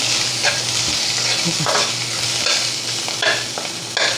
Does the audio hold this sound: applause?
no